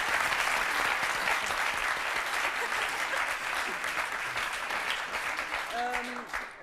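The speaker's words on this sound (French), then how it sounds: "on peut l'applaudir très fort" Studio audience at a French TV talk show bursts into loud, sustained applause that fills the whole stretch, a dense wash of many hands clapping at once, easing slightly near the end as a voice briefly rises over it.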